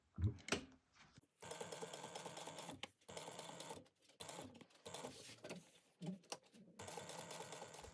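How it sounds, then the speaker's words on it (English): A sewing machine stitches a laptop bag at an eighth-inch seam, its motor running in several separate bursts of a few seconds each with short pauses between, close and moderately loud. "we are sewing this at 1/8 of an inch"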